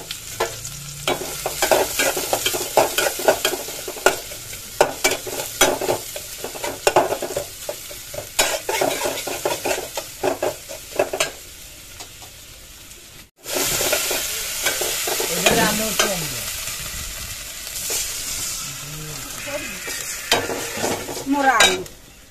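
Chopped onion frying in mustard oil with paste, loud crackling sizzle and busy spatula scraping and tapping against the pan, a brief cut midway, close up with no talk.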